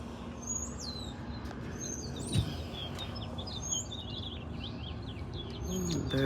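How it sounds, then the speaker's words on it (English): Birdsong in a garden on a spring morning after rain, several birds chirping and tweeting in short repeated phrases at middle distance over a steady outdoor hum, with no talking. "The birds are singing so pretty."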